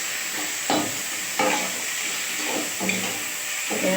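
Capsicum and tomato stir-fried in a pan with onion and potato, giving a steady frying hiss broken by scraping stirring strokes every second or so, heard close.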